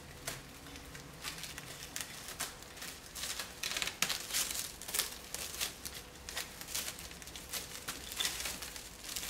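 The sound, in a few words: plastic wrap crinkling as it is wrapped around head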